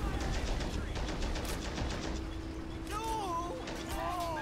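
Machine gun fire rattles in the WWII strategy game Men of War: Assault Squad 2, a rapid burst up front fading into a steady battlefield din with whistling, whining tones later on.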